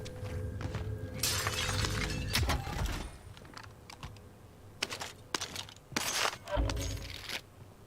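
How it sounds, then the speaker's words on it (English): Glass shattering in a video game, several sharp crashes and tinkling bursts spread across the stretch, mixed with clicking keyboard typing and mouse clicks at moderate level. "Yeah, break some glass, let everyone know where I am."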